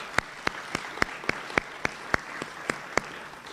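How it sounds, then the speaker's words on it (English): Evenly spaced, crisp handclaps from what sounds like a single nearby person at a senior student-athlete awards luncheon, about a dozen steady claps over a soft room murmur. "One more round of applause"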